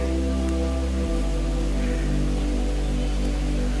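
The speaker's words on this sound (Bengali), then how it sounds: "যে পরিমাণ বৃষ্টি হইতেছে" Heavy rain pours steadily and loudly on a forest trail near Ham Ham waterfall in Srimangal, a dense unbroken hiss with a low rumble beneath and no clear voices.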